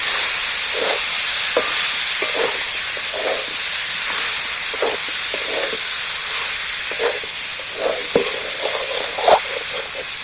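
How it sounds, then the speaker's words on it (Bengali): Raw jackfruit sautés in a pan with a steady hiss of frying, punctuated by repeated short scrapes and clinks of a spoon stirring, close and fairly loud. "এইবার আমি এঁচড়টা এর মধ্যে তুলে দিচ্ছি এইবার একটু ভালো করে কষিয়ে নিতে হবে"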